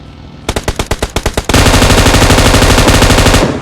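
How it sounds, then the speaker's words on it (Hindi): Loud gunfire in a PUBG-style battle royale game, coming from behind the player: about ten sharp, evenly spaced shots, then a dense sustained burst of rapid automatic fire lasting around two seconds before cutting off. "तभी मुझे पीछे से कुछ फायरिंग के साउंड आते"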